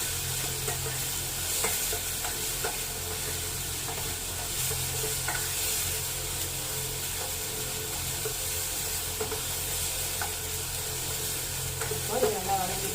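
Ingredients for Bombay chutney sautéing in a pan give a steady, moderate sizzle with soft stirring scrapes throughout and no talk.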